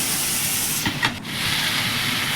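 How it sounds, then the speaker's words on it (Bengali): Fish head curry with potatoes sizzles steadily in a pan, a loud continuous hiss with a brief stir-like flutter near the middle and no talking. "ভালো করে কষিয়ে নেব।"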